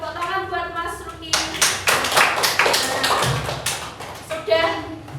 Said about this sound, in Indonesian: Tepuk tangan buat Mas Ruki